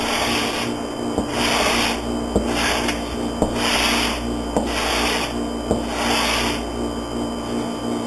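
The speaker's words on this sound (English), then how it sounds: "Let the sandpaper and the wood do the work." Wooden ribs are hand-sanded with sandpaper in a steady back-and-forth rasp, six or seven long strokes with short pauses between them, close and alone under a faint background hum.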